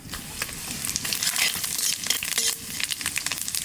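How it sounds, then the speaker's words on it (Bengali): Cumin seeds crackle in hot oil in a pan used for frying hilsa fish, a dense, close, loud sizzle with rapid popping and spitting throughout. "তেলের পর দিয়ে দেবো জিরে"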